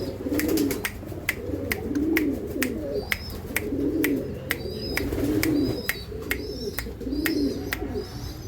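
Racing pigeons kept for breeding coo in repeated low, rolling phrases close by, with sharp clicks and flutters scattered through and a few thin chirps from other birds higher up.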